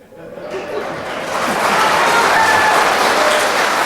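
Audience members at a town council meeting break into applause that swells from scattered claps into steady, fairly loud clapping mixed with some laughter.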